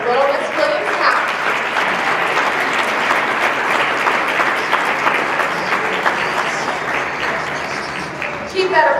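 Pageant audience applauds the five young contestants vying for Little Miss Williams County, a steady, dense wash of clapping that holds loud and even for the whole stretch.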